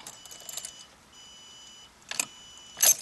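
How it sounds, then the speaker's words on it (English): A portable emergency jump starter beeps a few times close by, one early cluster then two more separated by a faint steady tone, with no talking. "I hear it beeping"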